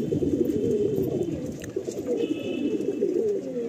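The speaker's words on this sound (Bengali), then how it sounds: "এই লফটে অজস্র পায়রা আছে" Many Madrasi pigeons crowded in a loft coo continuously in a dense, overlapping low murmur, steady and close throughout, with faint higher tones drifting above.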